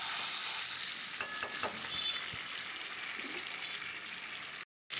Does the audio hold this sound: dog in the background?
no